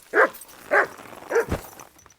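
A dog in the video game Kingdom Come Deliverance 2 gives three evenly spaced barks at close range, clear and fairly loud, with no talk over them.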